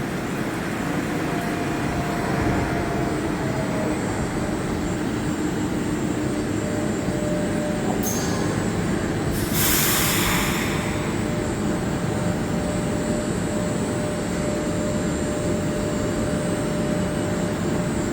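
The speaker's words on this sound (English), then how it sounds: "We got Azur set 48 pulling in here." An Azur metro train, set 48, pulls into Angrignon station on the Green Line of the Montréal Métro, making a continuous loud roar with a brief hissing swell partway through, no talk.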